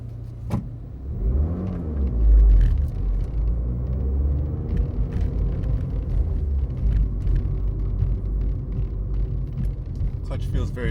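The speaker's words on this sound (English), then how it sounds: "San Francisco traffic." A turbocharged 2013 Fiat 500 Abarth driving through San Francisco traffic, a steady low engine rumble and road noise from inside the cabin, with a brief swell in engine sound early on.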